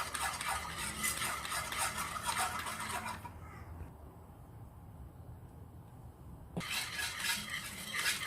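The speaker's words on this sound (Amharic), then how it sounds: "ውፍር እስኪልልን እናማስለዋለን።" A sauce with black pepper, garlic powder and salt is stirred in a pot over a gas flame as it thickens, a steady scraping and swishing broken by a quieter pause before the stirring resumes.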